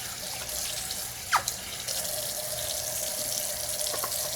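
Warm water pours steadily from a tap into a sink for rinsing, a continuous splashing hiss with a brief clink partway through, close and alone without talk.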